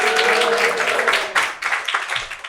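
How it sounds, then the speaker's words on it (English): An audience applauds to welcome a speaker to the stage, a brief dense burst of clapping close and loud throughout. "Please give a warm round of applause for Jonathan Campion."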